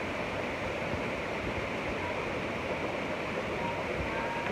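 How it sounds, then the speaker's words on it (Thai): The lower part of Ta Ton waterfall pours in a constant, even roar of rushing water, a broad steady noise with no breaks, heard close by. "อันนี้คือส่วนล่างของน้ำตกตาโตนะครับ"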